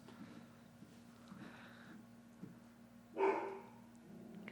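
A dog barks once in a sharp burst partway through, heard at a middle distance over a steady low hum and faint background noise.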